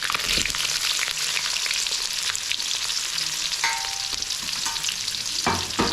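Onion, curry leaves and green chilies frying in hot oil with cinnamon, a dense continuous crackling sizzle, close and loud, with occasional scraping stirs throughout.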